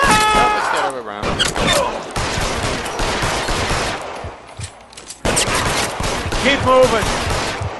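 Rapid video game gunfire in bursts and fusillades, loud and chaotic, mixed with a voice speaking over the shooting.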